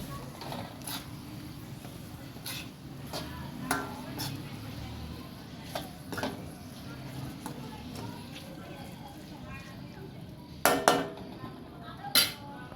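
Tomato, red chili, green chili and soy sauces being mixed in a bowl, with scattered clinks and scrapes of a spoon against the dish, a few sharper knocks near the end, and a voice talking faintly throughout.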